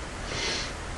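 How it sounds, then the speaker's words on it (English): A single short sniffle or snort through the nose, close and fairly loud, lasting about a second with no speech over it. "Sorry, sniffles."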